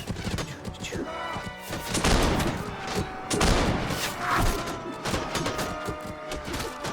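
Repeated gunfire and impacts in the video game Warsword, irregular bursts of shots and thuds at moderate loudness mixed with a busy game soundscape.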